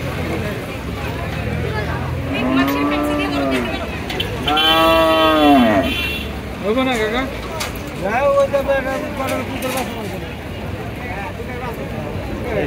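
Several cows moo loudly nearby at a crowded cattle market before Eid al-Adha, long drawn-out calls one after another, amid a bustling crowd and background chatter.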